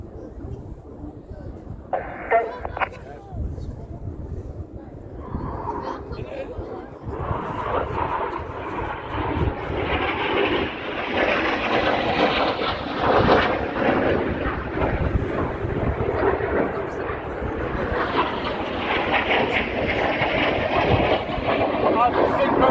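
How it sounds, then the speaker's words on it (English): Red Arrows display jets sweeping low overhead at about 100 feet during an RAF Cosford air show, a broad roar that swells and holds loud for most of the stretch, with a public-address commentator talking over it. "Once again, each aircraft down at only 100 feet."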